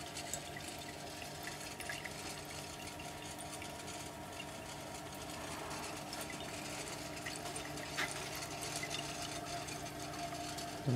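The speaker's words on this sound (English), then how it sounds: "Here's a pump." Liquid pump on an alcohol reflux still, heard close: a faint, steady hum with a continuous trickling, watery wash and no voices.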